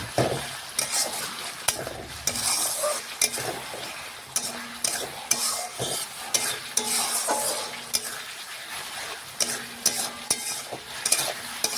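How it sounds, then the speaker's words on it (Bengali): Steady sizzling of frying spices drying out with repeated scraping and stirring strokes in a metal wok, close up, no voices. "যেটুকু জল আছে মশলার গায়ে সেটাও দেখুন এইভাবে কষাতে কষাতে শুকিয়ে নিচ্ছি কড়াইয়ের মধ্যে"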